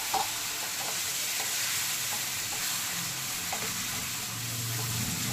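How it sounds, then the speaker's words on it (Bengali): Spice paste and potatoes sauté in a hot pan, a soft continuous sizzle broken by faint scraping stirs, heard close and quiet with no talking. "এবার বেশ ভালোভাবে কষিয়ে নেব।"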